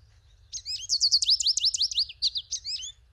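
A rapid series of high, thin, slightly nasal chirps runs for about two and a half seconds, close and clear against near silence.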